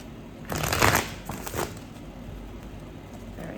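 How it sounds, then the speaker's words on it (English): Tarot cards being shuffled by hand, a couple of quick riffling bursts close up, followed by quieter handling and faint rustling. "let me just shuffle a little bit more"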